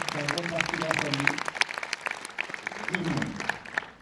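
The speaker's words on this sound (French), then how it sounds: "On peut l'applaudir pour ça quand même." An audience at the Orléans premiere of the film Love Addict applauds, with scattered claps rising and falling beneath people talking.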